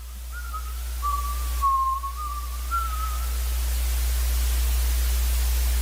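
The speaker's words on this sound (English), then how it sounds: "Timothy heard a familiar whistling coming from outside" A thin, wavering whistle holds one pitch for a few seconds, sliding slightly up and down, over steady background hiss.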